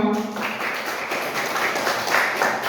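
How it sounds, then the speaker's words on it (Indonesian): Schoolchildren in a class applauding after a rhythmic gymnastics lesson, a dense burst of many hands clapping that starts abruptly and carries on steadily to the end, fairly loud and close. "tepuk tangan untuk kita semua"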